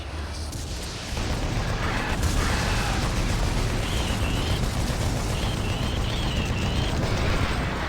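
Machine gun in Doom 3 BFG Edition's The Lost Mission fires as a continuous, loud, rattling stream of rounds, steady and close, layered with game ambience.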